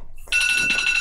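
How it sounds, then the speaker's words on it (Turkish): A medication reminder alarm starts ringing abruptly after a brief quiet moment, a loud, steady electronic telephone-like ring with repeated pulses, close by and with no voices. "Bakın ilaç saati geldi, alarmı çalıyor."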